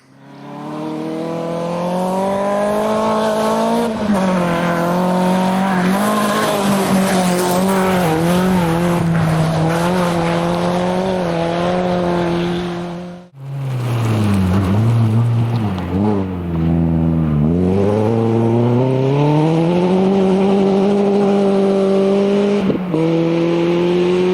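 A rally car's engine roars loudly and continuously at high revs, pitch climbing and falling through gear changes, with a brief dip before revving hard again.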